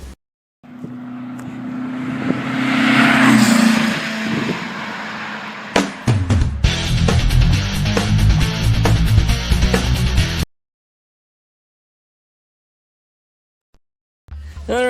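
A VW Beetle engine with stock pea shooter exhaust runs loudly with a whistling drone, then shifts to a rougher, choppier idle before cutting off into silence, and a brief burst returns at the end.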